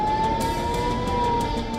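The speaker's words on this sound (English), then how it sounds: "Blaring sirens," Air-raid sirens blare across the Israeli port city of Haifa during Hezbollah rocket fire, a loud steady wailing tone that holds without a break.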